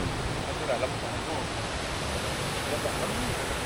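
A waterfall on Sumba island pours continuously, a broad, even rushing wash heard at moderate distance without pause.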